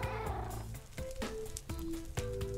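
Cats meowing in Minecraft, several short mewing calls spaced out over a couple of seconds, faint and close, over a soft background with music-like tones.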